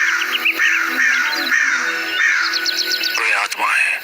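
Crows caw loudly and repeatedly at close range, harsh calls overlapping in a continuous noisy flurry.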